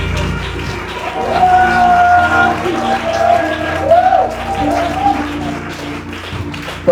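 A church congregation acclaims the Lord with a swelling crowd roar and applause, mixed with sustained voices and a few shouted tones, loud and continuous for about seven seconds.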